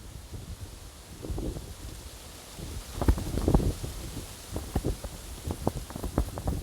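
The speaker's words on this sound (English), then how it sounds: "And as the wind blows," Wind blows outdoors with a gusty, rustling rush. It swells and fades and is mixed with patters and crackles like leaves or drops, steady and fairly loud close to the microphone.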